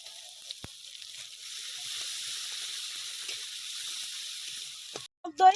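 Ground cashew paste sizzles in a pan for doi katla, a soft, even hiss that runs steadily before a brief clatter of utensils at the end.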